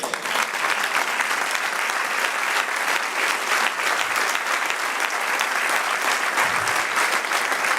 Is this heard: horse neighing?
no